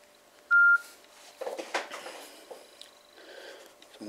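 A mobile phone gives a single short, loud electronic beep as Bluetooth is switched on, followed by soft handling rustles and clicks nearby.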